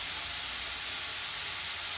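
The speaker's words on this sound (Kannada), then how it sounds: "ಸ್ವಲ್ಪ ಒಂದು ಎರಡು ಇಂಚಷ್ಟು ತುರ್ಕೊಂಡಿರೋವಂಥ ಶುಂಠಿ ಹಾಕ್ತಾ ಇದ್ದೀನಿ ನಾನು" Grated ginger, about two inches' worth, sizzles in hot oil for a cauliflower and pea curry, a steady, even hiss that carries on alone without a break.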